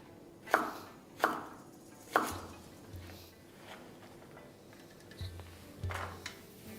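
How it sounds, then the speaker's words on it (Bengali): Pointed gourd being cut into long strips with a knife on a board, with several sharp, close chops at an even pace of about one per second, then softer, sparser taps, with no talking. "বাট আমি যাতে তাড়াতাড়ি কুক হয় সেই জন্য এটাকে এইভাবে লম্বা লম্বা করে কেটে নিচ্ছি।"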